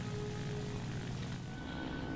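Propeller drone of a Ki-84 fighter's engine in a flight game during a 20-degree climb, a steady, dense, loud hum with no break.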